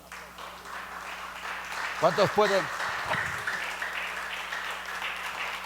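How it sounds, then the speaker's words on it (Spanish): A church congregation gives a steady round of applause for the Lord, an even wash of clapping that continues under a voice briefly speaking near the middle. "¿Cuántos pueden dar un aplauso al Señor?"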